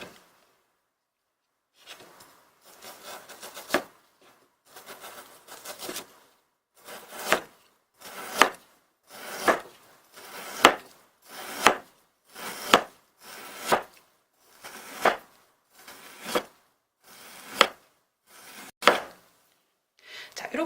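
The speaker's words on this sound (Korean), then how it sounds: "5cm 정도 해서 이제 편을 얇게 썰어줍니다." A knife cuts thin 5 cm slices from a 150 g piece of meat for the Chinese dish jingjiang rousi. About fifteen crisp, evenly spaced cuts land close and clear on a board, with soft rubbing between strokes.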